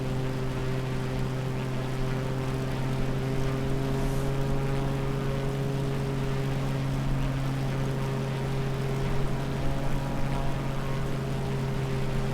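Steady propeller-plane engine drone in flight over the Toulouse countryside in Microsoft Flight Simulator, a constant loud hum with strong harmonic bands running unbroken and alone throughout.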